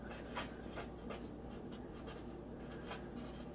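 A pencil scratches steadily across paper, soft, close strokes repeating in a quiet room while letters are written on a compass rose worksheet.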